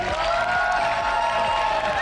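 Brief audience applause at a junior innovation competition final, dense steady clapping with a crowd murmur throughout.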